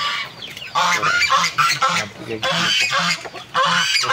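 Geese honk loudly and repeatedly close by, a raucous overlapping chorus of nasal calls with brief pauses.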